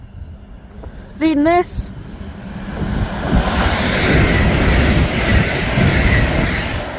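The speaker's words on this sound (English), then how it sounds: "passing through now is an Advanced West Coast Class 805, running from London Euston to Chester" An Avanti West Coast Class 805 train, running London Euston to Chester, passes through Berkhamsted station with a rising roar that swells and holds loud after a two-tone horn, while someone speaks briefly at first.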